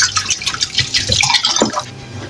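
Tap water runs and splashes while food is rinsed for cooking in a kitchen, a close, busy patter of drips and sloshing that lasts the whole moment with no talk.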